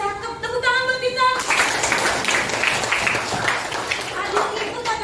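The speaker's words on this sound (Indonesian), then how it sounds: "Tepuk tangan buat Tita" Classroom applause for a student named Tita, a burst of many hands clapping together, loud and steady for several seconds, with a teacher's voice speaking over the start.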